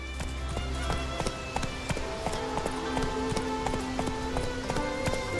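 Roach, the horse in The Witcher 3: Wild Hunt, gallops with a steady, clear clip-clop of hooves that runs throughout, loud and close over a low game background.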